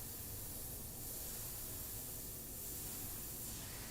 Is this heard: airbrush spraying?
yes